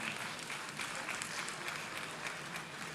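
Audience applause for Ghana's President Nana Addo Dankwa Akufo-Addo at the centenary of King Prempeh I's return from exile, a steady dense wash of many hands clapping, moderately loud and sustained throughout with no voices on top.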